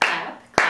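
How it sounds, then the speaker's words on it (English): Hands clap together twice in a children's clapping game, each clap a sharp, close smack, the two spaced a little over half a second apart with a short decaying tail after each. "Clap, clap, clap your hands together"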